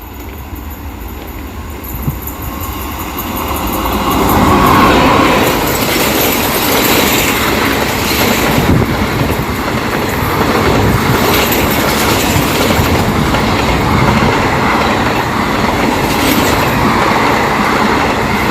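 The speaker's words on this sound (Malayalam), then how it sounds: "ഏർനാട് എക്സ്പ്രസ്സിനുള്ള സിഗ്നൽ റെഡി ആയിട്ടുണ്ട്, ഇപ്പോൾ വരും. തിരുവനന്തപുരം മംഗലാപുരം ഏർനാട് എക്സ്പ്രസ്." The Thiruvananthapuram–Mangaluru Ernad Express, hauled by a WP4 locomotive, rolls past at a village line. A loud, steady rumble and wheel clatter swells in after a few seconds and continues without letup.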